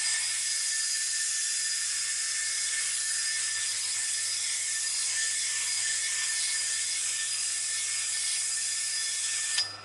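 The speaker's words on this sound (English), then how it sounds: "And this is 60 grade sandpaper. This is rough sandpaper." A rusty vise used as an anvil is sanded with coarse 60-grit sandpaper, giving a steady, continuous abrasive hiss that stays unbroken for about ten seconds and then stops abruptly. A faint low hum runs underneath.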